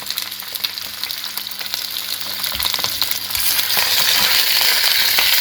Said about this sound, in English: Now we're going to put this into the pan with the skin down. And you put the pan on high. You hear that?